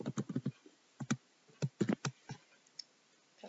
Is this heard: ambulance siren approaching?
no